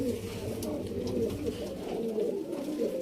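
A female pigeon, mate of male racing pigeon number 85, coos softly in low, rolling murmurs, with steady close cooing and a background of faint chatter from other birds.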